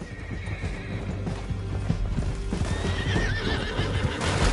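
A horse gallops with rapid clip-clop hoofbeats and neighs shrilly in a PS4 action game, loud and close over a constant rush of battle noise and wind.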